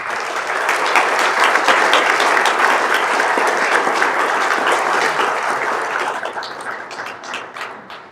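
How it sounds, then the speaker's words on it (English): A large audience applauds steadily and loudly throughout at the WESPAC 2025 event in Accra, welcoming the Minister for Sports and Recreation, with dense continuous clapping that tapers slightly toward the end. "shall we, with great applause, welcome the Honorable Minister for Sports and Recreation, Mr. Kofi Adams"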